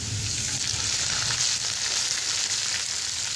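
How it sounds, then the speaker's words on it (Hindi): Ginger garlic paste sizzles steadily in hot oil with browned onions in a pan, a loud, continuous frying hiss with faint stirring underneath. "अब हम इसके अंदर अदरक लहसुन का पेस्ट ऐड करेंगे"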